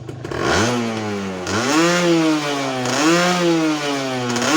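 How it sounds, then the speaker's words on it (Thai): A Thai motorcycle engine with a modified quick-throttle housing and carburetor revving up hard twice in quick succession, loud and close, with a buzzing, rising-and-falling tone and no talk. "ทีนี้สตาร์ทเครื่องแล้ว เดี๋ยวจะบิดให้ดูนะครับ"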